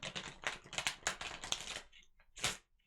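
Tarot cards are shuffled in quick, rapid riffling bursts, close up, followed by a pause and a final short flurry.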